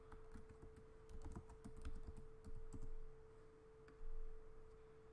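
Someone types an email address and password on a computer keyboard, with close, irregular bursts of key clicks over a steady low hum.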